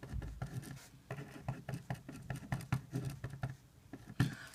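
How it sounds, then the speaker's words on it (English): Pen or marker writing equations by hand on a surface, a steady run of soft close scratchy strokes and taps in an irregular rhythm, with no talk. "I'm just going to write them a little bigger to give myself some room to write here"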